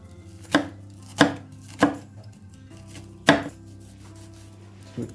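A knife chops two small onions for a zucchini and egg recipe, making five crisp, separate thuds on a board, close and irregular, with a quiet gap between each cut and no talk.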